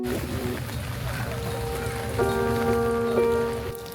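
Rain falls steadily at a Buddhist shrine, a continuous patter on surfaces with tonal sounds rising over it midway, moderately loud.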